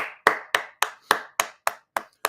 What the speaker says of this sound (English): I do want to give a hand clap